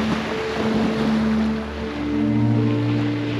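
Steady surf washes onto an uninhabited island beach in a continuous wash of waves. Wind noise and a low hum run underneath, close and fairly loud with no talking.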